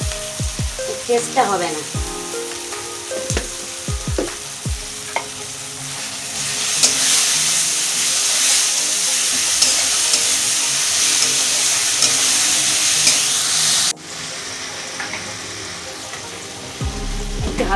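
Garlic sizzles hard in hot oil in a pan, stirred with repeated scrapes and clinks. The frying hiss swells loud and steady partway through, dips briefly, then resumes. A voice speaks once.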